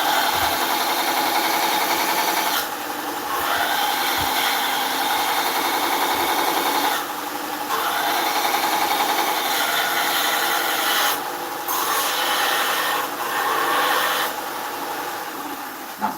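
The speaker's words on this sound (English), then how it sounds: "I'm going to take it to my sharpening system so I can sharpen this up." A woodturning skew chisel being sharpened on a sharpening system, heard as a steady, continuous grinding whir close by, running for the full length with a few brief dips where the tool is lifted off and repositioned.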